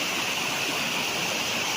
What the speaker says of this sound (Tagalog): So kung kayo po ay naghahanap ng property na mayroong bukal mismo sa loob